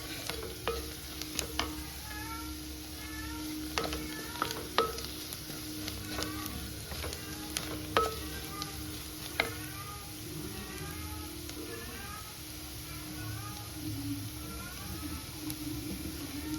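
Spices being stirred as they fry in a pan for omelette curry, a quiet continuous sizzle with frequent scraping strokes and clicks of the spoon, fairly close and unhurried, with no voices.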